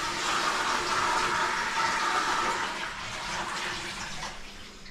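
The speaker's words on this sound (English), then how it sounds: "we've probably just tipped more water down it than an actual flush would" Water pours steadily into a newly installed toilet, a continuous rushing splash at moderate level for several seconds that eases slightly toward the end, with no voices.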